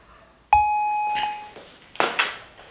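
A Kerui M525 wireless plug-in doorbell rings with one loud, clear electronic chime tone that sustains for about a second and then fades, followed by faint rustling handling noises.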